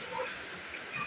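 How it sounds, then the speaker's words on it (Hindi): Heavy monsoon rain pours down steadily in a dense, even hiss, close and loud, with no break across the short stretch and nobody speaking. "देखिए कितनी तेज़ बारिश हो रही है"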